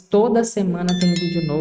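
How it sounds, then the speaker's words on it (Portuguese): A notification bell sound effect gives a few bright, ringing dings that overlap a man's speech, sitting high and clear above his voice near the end. "ativa o sininho das notificações"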